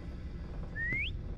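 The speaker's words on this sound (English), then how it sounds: "Keep whistling. Keep whistling." A single short whistle slides upward in pitch while someone explores a ghost ship, heard once over a low, steady background rumble.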